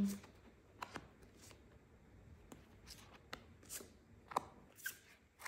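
Cards are shuffled and drawn for a tarot-style reading, with quiet, crisp riffling and a series of soft snaps and slaps close by, spread over a few seconds.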